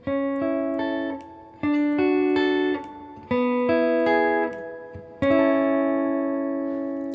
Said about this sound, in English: That's what it sounds like with just those triads.